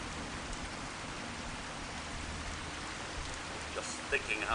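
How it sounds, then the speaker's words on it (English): Steady heavy rain hisses evenly throughout in Fallout 4, a dense wash of falling water with a few louder blips near the end. "Just thinking how wonderful it would be to get out of this infernal rain"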